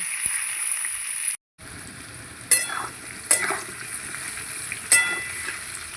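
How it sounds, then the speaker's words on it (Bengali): Potatoes frying in a pan until reddish, a steady close crackling sizzle with a brief cut-out and three sharp stirring scrapes spaced through the sound. "লবণ এবার লাল লাল করে ভালো করে ভেজে নেব"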